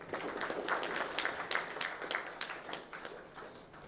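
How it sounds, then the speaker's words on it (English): Conference audience at an architecture awards event in a hotel in Bangalore applauds after a speech, a dense, steady wash of many hands clapping at moderate loudness that thins slightly toward the end. "A round of applause for Ashuri HCT Maya sir, everybody"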